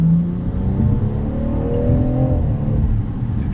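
A 2018 BMW M240i drops into third gear, and the engine revs up with a rising, climbing tone over a steady mechanical roar, close and loud inside the car with no talking.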